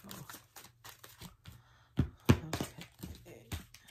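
Tarot cards being shuffled by hand, a quick irregular series of soft slaps and riffles with a couple of sharper taps, fairly close and quiet.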